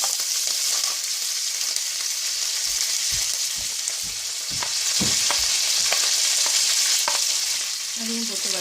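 Curry leaves and two green chilies sizzle loudly in hot oil with fennel seeds, a constant close crackle, while a utensil stirs and scrapes the pan in short irregular strokes, with no voices.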